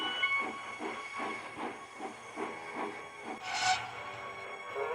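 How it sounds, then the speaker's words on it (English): A steam locomotive in a model railway setting lets off a burst of hissing steam near the end, after a stretch of rhythmic chuffing and rail noise. "He just let off steam feebly."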